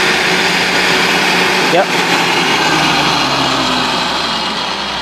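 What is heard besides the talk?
SRM electric motor running up to 880 RPM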